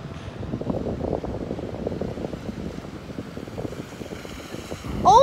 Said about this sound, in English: There goes the boat, guys. It's gonna create even bigger waves like this one.